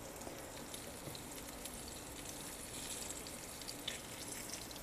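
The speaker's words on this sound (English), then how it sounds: "You can hear that sizzle too." Floured zucchini slices frying in oil give a steady, soft sizzle with faint crackles and pops, continuous and fairly quiet throughout.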